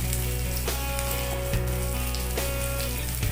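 Bitter gourd and onion sauté in a hot pan, giving a steady close sizzle with a few sharp stirring clicks and scrapes, and no voices.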